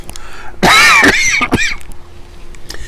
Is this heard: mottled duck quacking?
no